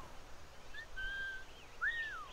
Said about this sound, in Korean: 여기서 휘파람을 부니까 반응을 하네요.